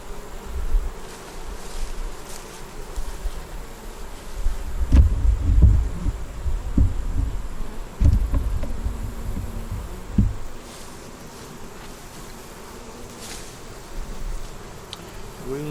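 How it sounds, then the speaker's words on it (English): Honey bees hum and buzz steadily in an opened hive holding drones, a dense low drone with louder swells of close buzzing in the middle stretch. "Just a good little bee."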